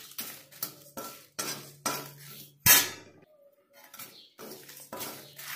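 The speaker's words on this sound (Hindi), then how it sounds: "इसे मैं अच्छी तरह से चला लूंगी और भून लूंगी और साथ में 4 से 5 लाल मिर्च डाल करके मैं भून रही हूँ।" A metal spoon stirs and scrapes masala with red chilies roasting in a kadhai, giving repeated clattering strokes in an irregular rhythm, one sharp loud clank midway, close and alone.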